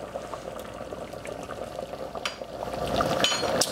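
Homemade three-ingredient tomato sauce seasoned with black pepper being stirred in a pot, a close, continuous bubbling simmer with spoon scrapes and clinks, swelling slightly louder near the end.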